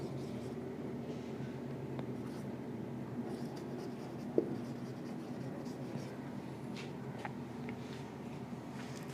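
Marker writing notes on a board, a steady soft scratching that runs throughout at moderate level, with a faint voice now and then.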